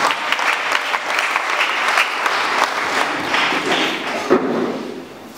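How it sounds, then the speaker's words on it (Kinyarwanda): Church congregation clapping loudly together during a Rwandan gospel gathering, a dense sustained wash of hands filling the space for several seconds before trailing off. "Reka dukomere Imana yacu amashyi menshi cyane."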